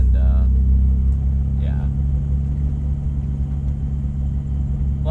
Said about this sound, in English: I think the muffler delete sounds awesome.